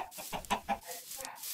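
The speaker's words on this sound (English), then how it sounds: "I could just dig a pit and put these chickens in it." Chickens in a video game cluck and murmur in short, rough bursts, several soft calls in a row at low level with a faint rooster-like note.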